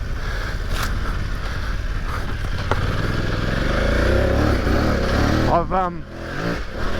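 A BMW F900 GS enduro motorcycle rides along a dirt trail, its engine droning steadily under heavy wind buffeting, with a brief rise and fall of revs near the end and a rider talking over it.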